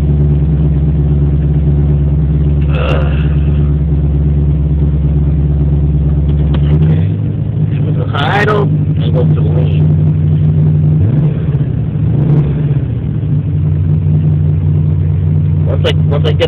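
An Oldsmobile 403 V8 with Megasquirt MS3-Pro sequential EFI idles loud and close. The rumble drops in pitch as it goes into drive, with brief revs and clunks partway through.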